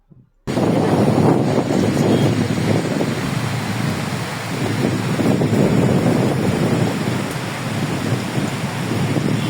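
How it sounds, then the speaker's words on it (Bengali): Steady, dense rainfall roars continuously close by, with a deep rumbling low end that suggests distant thunder; no voices. "বৃষ্টির এই আওয়াজটা আমার ভীষণ পছন্দ"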